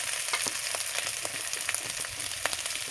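Cut potatoes dropped into frying ginger-garlic paste in oil, a dense, even sizzle with small crackles throughout, close and moderately quiet.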